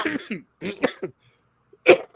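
A man coughs in a short burst near the end, following a stretch of conversational talk and a brief pause, close to the microphone on a livestream.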